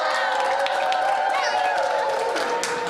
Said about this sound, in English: Can we get a little bit of a cheer of excitement, guys, for today's racing?